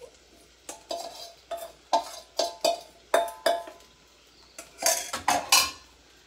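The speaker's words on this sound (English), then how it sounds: "let's just add this sago mixture" Sago mixture being added to a pan and stirred, a spoon scraping and clinking against the metal in about a dozen separate quiet strokes, with a faint background hum and no speech.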